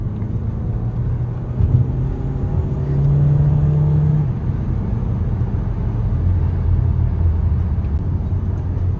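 A Volkswagen Jetta 2.0 Highline automatic accelerating hard with wheel spin: a loud, continuous engine roar and road rumble that builds with rising tones, heard close from inside the car with no talk.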